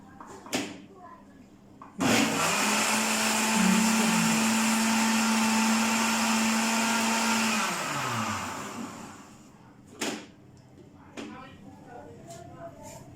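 A kitchen machine whirs steadily for several seconds while blending homemade ice cream mix with added sugar, starting abruptly, holding a loud even motor drone, then winding down, with short clatters and brief talk before and after.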